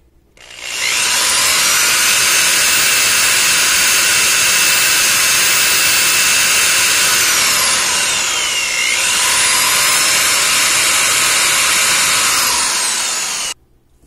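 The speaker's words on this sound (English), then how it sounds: "now I've sanded off the post of this orange ball joint" A power sander grinds down the post of an orange plastic ball joint, a loud steady high-pitched whine that dips briefly in speed midway, then runs on before cutting off.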